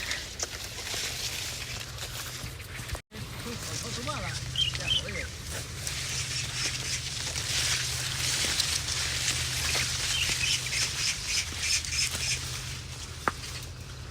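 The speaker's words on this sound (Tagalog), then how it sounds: "Daming ibon, no?" Many birds chirp and call in a dense chorus over a rural cornfield in the Philippines, steady and fairly close throughout, with a low background hum and brief patter.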